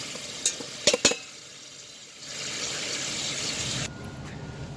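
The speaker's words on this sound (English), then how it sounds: "Saute those up in the pork chop fat, some ghee," Bell peppers and garlic sautéing in pork chop fat, ghee and a little olive oil, a few sharp clinks of utensil on pan up front, then a steady, moderate sizzle and hiss that holds for several seconds before easing off.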